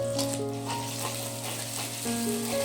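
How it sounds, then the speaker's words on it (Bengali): Finely chopped onion fries in oil for Bengali chicken kosha, a steady, even sizzle and crackle throughout with a faint tonal hum in the background. "পেঁয়াজটাকে এই সময়ে কন্টিনিউয়াসলি নেড়ে যেতে যেতে হালকা করে ভেজে নেব"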